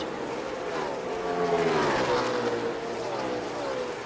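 NASCAR stock cars racing at Kentucky in 2019, a sustained loud engine roar with a pitch sweep as a pack of cars passes on the front straightaway, steady and close throughout.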